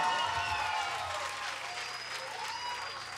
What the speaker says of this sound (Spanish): un aplauso para Jonathan, porfa